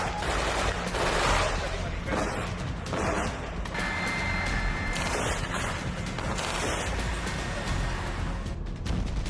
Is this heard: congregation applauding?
no